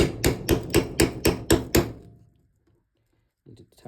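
A hammer taps rivets through a metal plate on a Rans S6 aircraft cover, seven sharp, evenly spaced close strikes followed by quiet and a faint rustle.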